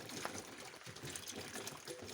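Starchy water drained from cooked rice pours and trickles in a continuous, moderately quiet splashing stream, alone with no talk.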